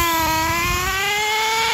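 A nitro RC truck engine screams at high, steady revs on a race track, its sharp buzzing whine sustained and close, with only slight shifts in pitch.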